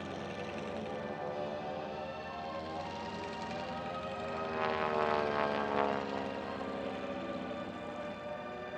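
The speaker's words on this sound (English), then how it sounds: "a replica Mitsubishi A6M, actually a converted Harvard, but the most convincing representative of a wartime Japanese aircraft currently flying in Europe" A replica Mitsubishi A6M, a converted Harvard propeller aircraft, flying at the La Ferté-Alais air show, its radial engine droning steadily with a rising, swelling pass midway before settling back to a moderate hum.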